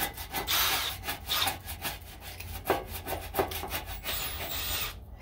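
A harsh, rhythmic rasping of a power tool cutting or sanding, pulsing unevenly for several seconds, fairly close, with no talking.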